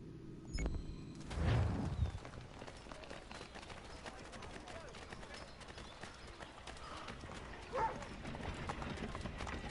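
Faint hoofbeats clop at a distance under outdoor background noise, with a brief louder thump near the start and another bump later.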